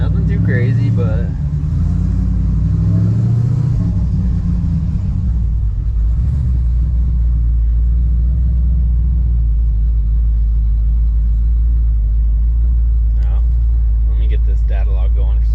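A 426 supercharged HEMI Dodge Dakota truck on the road, a deep, loud engine rumble throughout with a rising surge early on, then a steady cruising drone under intermittent talk inside the cab.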